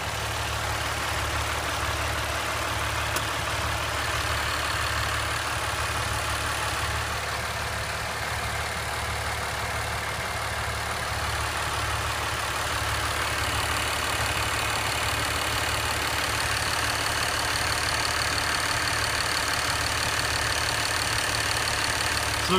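A 3.0L Ram 1500 EcoDiesel engine suffering severe oil blow-by idles steadily, a constant close rumble with faint ticking and no talking.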